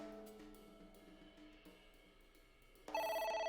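A telephone starts ringing in the video game AI: The Somnium Files, a sudden loud electronic ring cutting in near the end after faint quiet game music.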